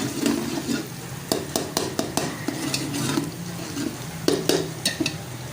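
Onions frying toward golden brown in a pan for restaurant-style daal mash, with steady low sizzle under repeated sharp scrapes and clinks of a spoon stirring against the pan.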